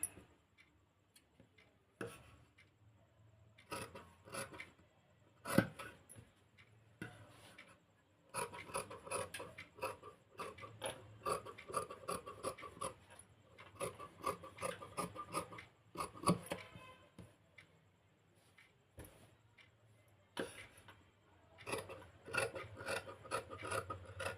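Scissors cutting fabric for a blouse: quiet, close snipping and rasping in irregular runs, with soft ticking clicks between cuts.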